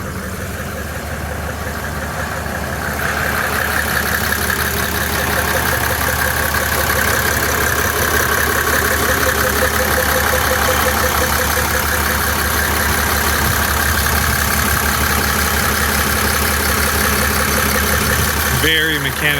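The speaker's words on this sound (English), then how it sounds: "Very mechanically noisy engine" A Volvo 240 with a swapped-in OM606 diesel engine idles steadily, its mechanically noisy, clattering running sound continuous and fairly close throughout, growing a little louder after the first few seconds.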